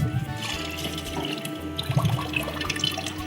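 Water runs from a tap into a cooking pot to be boiled for making eko, a steady splashing rush heard up close for a few seconds with a low hum beneath it.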